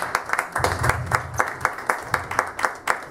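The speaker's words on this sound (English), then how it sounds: "You guys give him a round of applause." A small audience at a Wings Plus gathering claps in a brief round of applause with close, uneven hand claps that rise and hold steady for a few seconds, with no voices over them.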